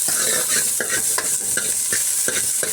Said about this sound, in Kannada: ಈಗ ಈರುಳ್ಳಿ ಹಾಕ್ಕೊಂಡು ಒಮ್ಮೆ ಚೆನ್ನಾಗಿ ಫ್ರೈ ಮಾಡ್ಕೊಳ್ತೀನಿ